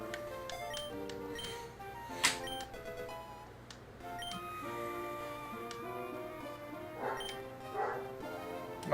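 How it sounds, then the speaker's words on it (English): Dogs bark in chiptune form inside the Pokémon Emerald Seaglass game, a few short yaps scattered over looping bleepy game music with ticking effects. "now my dogs are just barking"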